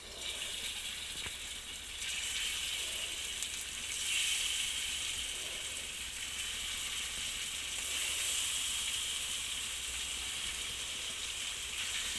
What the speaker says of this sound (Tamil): இந்த பக்கம் வந்து மீனை வறுத்துக்கலாம்.